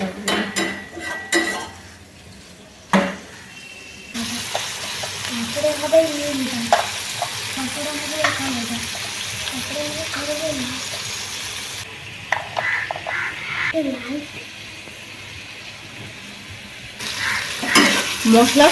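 Pond snails dropped into hot oil and spices in a pan, frying with a loud, close sizzle, broken by stirring clatter and clinks of a utensil against the metal.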